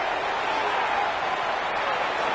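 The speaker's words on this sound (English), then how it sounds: "They're going to give out a little applause on that play." A steady wash of crowd applause and cheering in an American football video game fills the whole stretch, dense and continuous, with no breaks.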